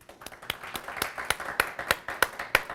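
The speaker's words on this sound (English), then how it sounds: "Can we get a round of applause?" A small audience at a workplace safety and security presentation claps in a thin, sparse rhythm, with individual claps standing out roughly every quarter second and slowly building in strength.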